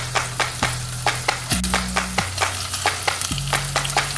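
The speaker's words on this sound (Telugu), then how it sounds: "బటర్ వేసుకొని పన్నీర్ వేయించుకొని పక్కకు పెట్టి" Paneer frying in butter gives a steady sizzle broken by regular sharp clicks and scrapes, alone, with a low droning hum running underneath.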